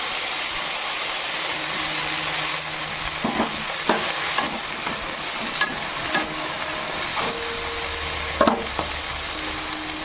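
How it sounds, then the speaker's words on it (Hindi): Cauliflower pieces frying in hot mustard oil in a home kitchen, a steady close sizzle with occasional stirring scrapes and pops throughout. "एबे तेल गरम होलानी आगे प्रथम हमें कोबी की भाजी देबा।"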